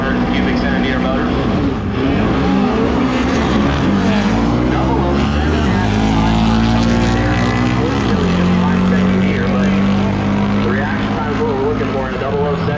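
Drag racing cars powered by a pair of 2,300 cc engines roar loudly and up close, revving and shifting in rising, falling sweeps, with an announcer's voice partly over the engine noise.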